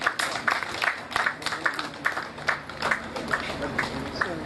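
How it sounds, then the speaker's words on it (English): A conference audience at a solar energy event claps for a guest CEO, a moderate patter of hands with uneven bursts and a few sharper individual claps, somewhat distant and light rather than a roaring ovation. "A round of applause for Dr. Boa, please."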